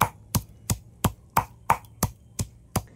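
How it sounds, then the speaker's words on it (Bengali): Leaves being pounded for a homemade hair-loss remedy, in nine steady, evenly spaced thuds, close and fairly loud, with no talking. "এইরকমভাবে যতটা পারবো থেতো করে নেব।"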